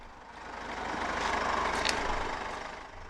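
A 2013 Mercedes-Benz GLK 220 CDI 4MATIC diesel engine idles with a steady low rumble and an even hiss. The sound swells slightly mid-clip and stays constant throughout.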